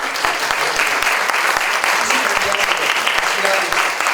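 Steady applause from the audience at a panel discussion on textbooks and Mexico's Nueva Escuela Mexicana, dense clapping sustained throughout with sporadic louder claps standing out and some voices mixed in.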